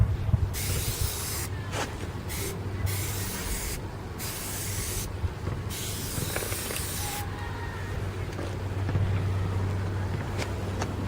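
Turtle Wax Wet N' Black Ultra Wet tire shine sprays from a shaken bottle in a string of close, hissing bursts with short pauses between them, over a low background hum.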